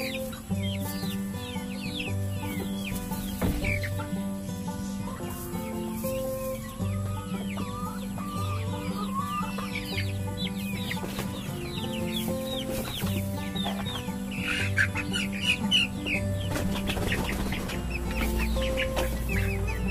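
Breeder hens and roosters cluck steadily throughout, a dense flock close by with overlapping calls, occasional louder squawks and faint chirps around them, with no one talking.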